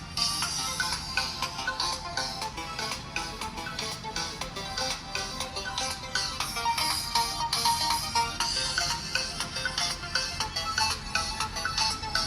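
A ringtone plays through the speaker of an Infinix Note 30 phone with JBL-tuned sound, a bright rhythmic melody with a steady beat that continues loud and alone for the whole stretch.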